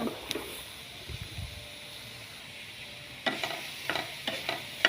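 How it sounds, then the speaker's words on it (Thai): Chili paste ingredients for a fermented fish chili dip are dry-roasted in a pan, making faint, soft stirring and scraping with a few sharper clinks and rattles, quiet and close with no speech. "คั่วให้หอมนะคะ คั่วไปเรื่อยๆเลยนะคะ"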